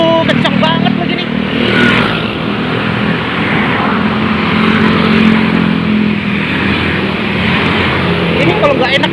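Speeding cars and motorbikes passing close by on a road in Depok, a loud continuous engine roar with rising and falling surges, while a person speaks over the din.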